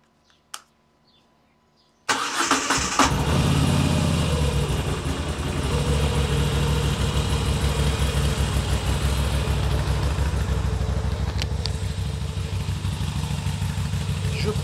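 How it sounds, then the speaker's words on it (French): A Moto Guzzi V7 850 with its stock exhaust cranks and fires after a near-silent start, then settles into a loud, steady, throbbing idle that holds close and continuous for over twelve seconds. "bruit, pot d'origine Moto Guzzi V7"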